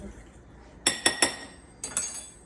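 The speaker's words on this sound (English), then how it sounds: "Stir and stir and stir." Toll House cookie ingredients being stirred in a glass bowl, two quick clusters of three bright clinks as the utensil strikes the side, close and crisp over a quiet room.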